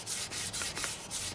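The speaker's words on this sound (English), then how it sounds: "So now I'll start sanding with the grain" Hand sanding wood with the grain while finishing a piece for wipe-on poly: steady back-and-forth rasping strokes with a regular rhythm, close and fairly loud, with no voices.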